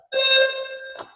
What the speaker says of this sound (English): There's a fire alarm going off right now, or a fire alarm testing happening.